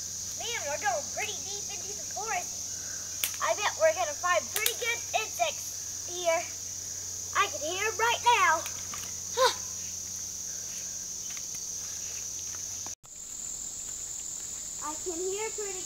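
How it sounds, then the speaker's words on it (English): Insects chirping outdoors make a steady, high, unbroken drone that runs all the way through, while children's voices chatter intermittently over it at close range. "I can hear pretty good insects."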